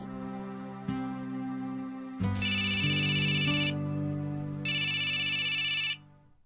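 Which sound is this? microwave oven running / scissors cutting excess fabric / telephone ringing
telephone ringing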